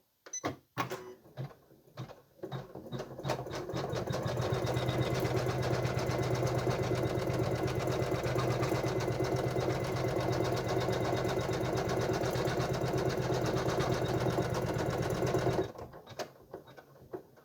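An electronic embroidery machine stitches a personalised baby bodysuit, its steady, fast mechanical whirring running continuously for about twelve seconds after a few clicks, then stopping abruptly.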